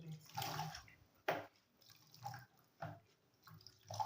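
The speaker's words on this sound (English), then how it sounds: "So I'm just going to squeeze the water out of it." Water wrung by hand from a soiled cloth baby diaper, coming as several short splashing bursts with dripping between them, fairly close and moderately loud, with no talk.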